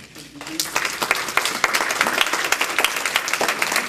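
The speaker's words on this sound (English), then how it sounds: "Give the Lord a hand clap on." A church congregation clapping their hands together, building from a quiet start into dense, lively rhythmic clapping, with voices mixed faintly underneath.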